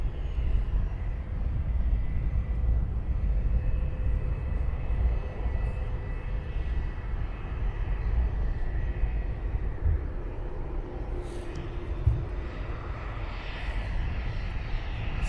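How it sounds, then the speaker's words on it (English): A Boeing 787 Dreamliner landing at Luton Airport, a steady low engine rumble and whine at moderate distance, holding evenly with a brief knock near the end, no voices. "That is your Dreamliner down."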